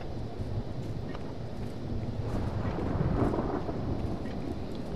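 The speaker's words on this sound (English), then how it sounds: "This place is full of lightning and thunder going on around here." Thunder and lightning rumble in the video game Dragon's Dogma, a steady, loud low roar with rain and wind that swells slightly midway.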